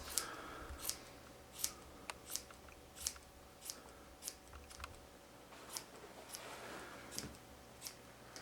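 Scissors snipping to trim a yarn pom-pom at a library craft session, a dozen crisp close cuts spaced at a fairly even rhythm against a quiet room.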